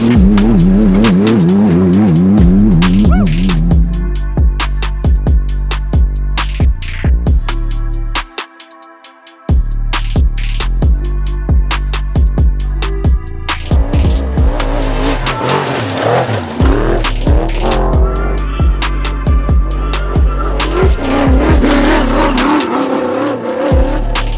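An off-road vehicle with a 3.0 V6 engine drives a trail near the Superstition Mountains, its motor revving and straining loudly and steadily, with tire noise and a brief lull partway through.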